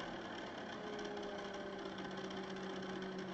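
A wood lathe turning a chess piece at a slowed speed gives a steady, continuous motor hum with a faint rhythmic knock, running evenly throughout.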